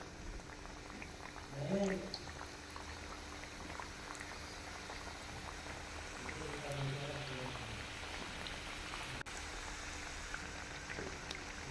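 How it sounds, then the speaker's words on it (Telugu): Chicken snack packets bubble and sizzle in hot oil in a steady, soft frying wash, with a brief voiced sound early on and a faint murmur later. "ముందుగా మనం తయారు చేసి పెట్టుకున్న ప్యాకెట్స్ అన్నీ ఆయిల్లో నిదానంగా వేసుకుంటూ కాల్చుకోవాలి"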